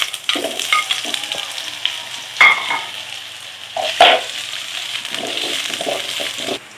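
Potatoes and carrots fry in oil with a steady crackling sizzle, and a few louder scrapes and knocks come from stirring in the pan.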